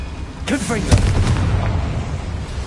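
A Confringo spell blast in the video game Hogwarts Legacy, a booming burst that erupts suddenly and leaves a rumbling, crackling tail.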